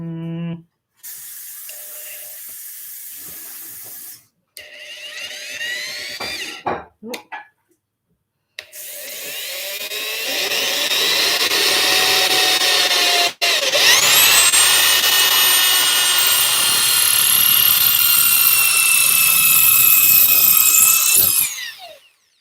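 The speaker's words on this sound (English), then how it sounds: "I hate using the drill so bad. So scary. I don't like the loud noise." Electric drill whirring in a DIY hammered dulcimer build, several short bursts of varying speed with pauses, then a long loud sustained run with rising whine.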